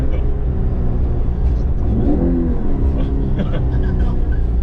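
Electric-converted Toyota AE86 rev-matching during a heel-toe downshift, its motor whirring steadily and loud throughout, rising in a brief swell near the middle, with people talking over it.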